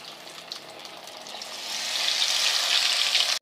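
Samosa pinwheels fry in oil over a low flame, a soft bubbling sizzle that gradually swells louder before a sudden cutoff at the end.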